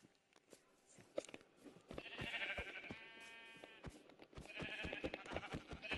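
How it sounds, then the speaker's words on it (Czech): Sheep in the Minecraft video game bleat in a couple of drawn-out cries, set among clicking and tapping game sounds at fairly low volume. "Ovečky je zabijeme."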